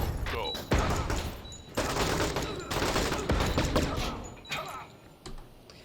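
Flashbang bangs and gunfire in the tactical game Door Kickers 2, a few heavy booming blasts and crackling bursts of shots close together over a dense, noisy mix.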